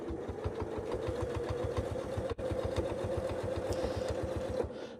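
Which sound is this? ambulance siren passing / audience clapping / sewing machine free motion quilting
sewing machine free motion quilting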